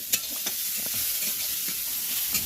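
Cooked potatoes are mashed in a pan for aloo paratha, with repeated scraping and pressing strokes over a steady background hiss, close up and without talking.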